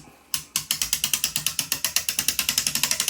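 A Herschede MSW-5000 mainspring winder ratchets steadily as a clock mainspring is wound, its pawl clicking in a fast, even series of sharp metallic ticks close up.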